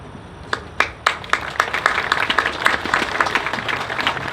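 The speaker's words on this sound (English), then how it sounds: "Thank you for your warm applause" An audience applauds at a public speech in Sembawang, beginning with a few scattered sharp claps and quickly swelling into steady, moderately loud clapping from a crowd.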